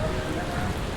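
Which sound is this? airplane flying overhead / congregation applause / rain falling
rain falling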